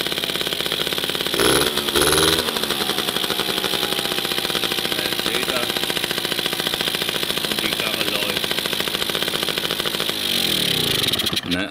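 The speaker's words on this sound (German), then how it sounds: "Ich mache jetzt mal die Karre an." Italjet scooter two-stroke engine running with its air filter removed, a loud, close, continuous rapid buzzing putter with a brief revving surge early on before settling and cutting off at the end.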